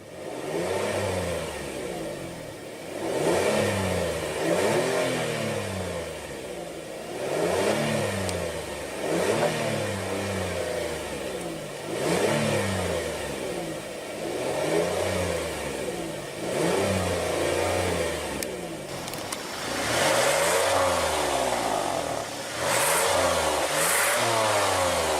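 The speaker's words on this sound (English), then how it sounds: "And let's go ahead and rev it up." A car engine is revved repeatedly while parked, each rev rising in pitch and falling back, producing a loud rhythmic cycle of revving and settling for about twenty-five seconds.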